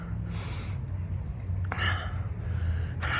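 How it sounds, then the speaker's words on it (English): A runner recovering from COVID-19 gasps and breathes hard right after a run, with several loud, rough inhale bursts in quick succession over steady low background noise. "I'm having a really hard time breathing."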